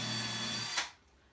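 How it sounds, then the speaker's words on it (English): A power drill whirs steadily through paper, then winds down abruptly with a brief burst as it breaks through, leaving quiet. "What we're going to do is drill the same drill bit"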